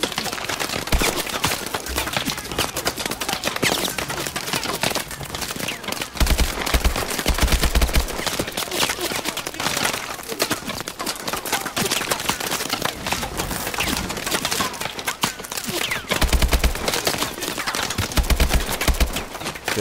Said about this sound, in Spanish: Tenemos una lluvia de balas.